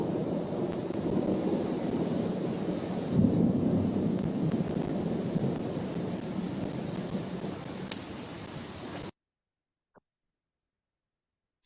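Loud, steady rolling thunder mixed with heavy rain, rumbling continuously for about nine seconds with a swelling peak partway through, then cutting abruptly to silence apart from a faint tick.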